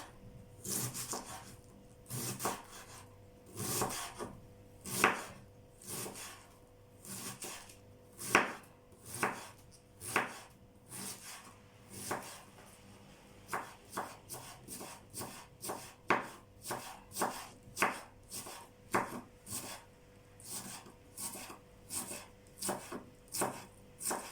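Rhythmic knife chopping of cabbage on a board, steady sharp strikes roughly one or two per second, close and clear, with no talking.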